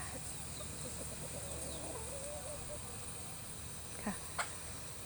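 Faint, distant clucking from chickens in a chicken house over a steady background hum, with a couple of brief sharper calls near the end.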